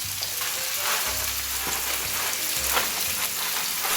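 Steady hiss and bubbling of a pot of boiling water up close, with a low hum underneath and a few soft knocks as linguine goes in.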